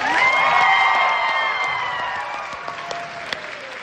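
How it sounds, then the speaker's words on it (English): Audience at a high school spring stage show applauding and cheering, a dense wash of clapping with a few whoops that starts loud and slowly fades over a few seconds, with no talk over it. "So let's please give them a round of applause."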